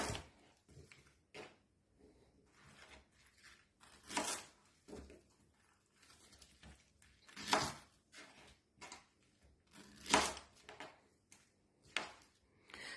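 A knife chops Chinese cabbage on a board for kimchi in a quiet kitchen, giving faint, irregular soft thuds with a few louder cuts and no talking.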